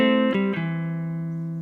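An opening lick on electric guitar: two quick picked notes that resolve into one sustained, ringing clean tone that slowly fades, played alone.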